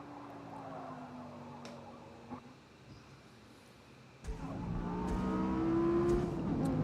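An Audi R8 race car engine in Forza Motorsport revs and accelerates, dipping briefly before roaring back louder with rising gear-shift tones, close and steady.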